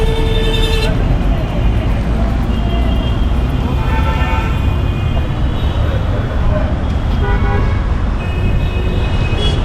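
Busy street traffic in South Mumbai rumbles with engines while car horns toot in several short bursts, some overlapping. A voice talks over the steady din.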